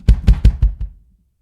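Five quick bass drum kicks from heel-toe pedal footwork, deep thuddy strokes in a fast cluster that weaken toward the end before fading to silence.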